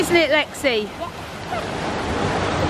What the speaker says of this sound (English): Ground paddles open. It's letting the water in,